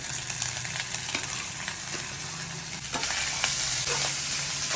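Grated sweet corn dropped into hot oil with peanuts and asafoetida, sizzling and frying steadily in a pan, with a louder burst of crackling partway through and occasional stirring scrapes.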